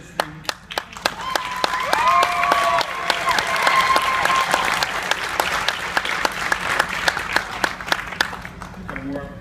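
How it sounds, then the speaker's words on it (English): Audience applause at a park dedication speech, a dense steady clatter of many hands that rises and holds, with a voice speaking faintly underneath partway through. "Got more applause than anything."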